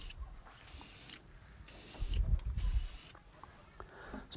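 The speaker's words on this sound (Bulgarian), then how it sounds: "Следващата стъпка е да го запечатаме с боя спрей. С ветрилообразната дюза нанасянето е бързо и лесно." Spray paint from a can with a fan-shaped nozzle is applied to flower box holders in three close, loud hissing bursts of about a second each, separated by short quiet gaps.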